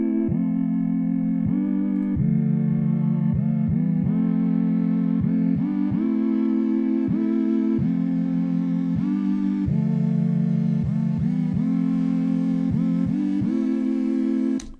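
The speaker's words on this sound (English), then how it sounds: "I have some cool chords with Serum, of course, sound like this." Sustained synth chords from the Serum software synthesizer play alone in a steady rhythmic progression of held and re-struck chords, bright and full, with no talking.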